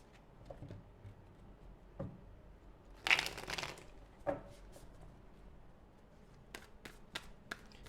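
Tarot cards are shuffled and drawn close by, a brief flurry of riffling followed by a few soft snaps and flicks as cards are laid down, faint and without talk.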